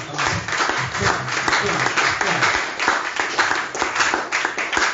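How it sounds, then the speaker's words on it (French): A church congregation at a Sunday worship service applauds together, a dense, steady wash of many hands clapping close by, with voices cheering and calling out through it. "Est-ce qu'on acclame? Est-ce qu'on acclame? Acclame."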